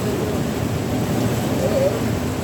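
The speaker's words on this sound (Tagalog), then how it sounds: "Lakas ng ulan guys." Heavy rain falling steadily in a Berlin garden, a dense constant hiss with a faint low rumble that may be distant thunder.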